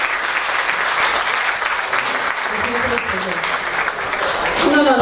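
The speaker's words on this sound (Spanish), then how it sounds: "un gran aplauso" An audience at a family anniversary celebration gives a warm round of applause, a dense steady clapping that carries on throughout, with a voice starting to speak near the end.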